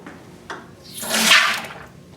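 Liquid soft serve mix bursts out of a pressurized Spaceman soft serve machine run with an air pump, a brief rushing hiss that swells to a peak and then fades. A small knock comes just before it.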